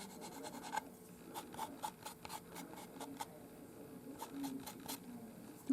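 Sanding cured Funcrecol UV light curing putty on a resin 3D print, quiet, close rhythmic scraping strokes in quick runs, pausing briefly between bursts.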